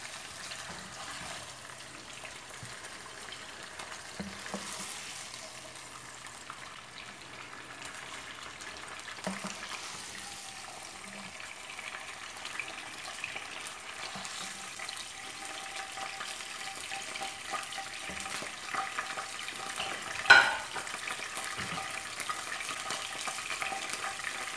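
Chicken pieces frying in ghee in a pan for restaurant-style biryani, giving a steady low sizzle throughout with occasional stirring clatters and one sharper knock near the end; no talk.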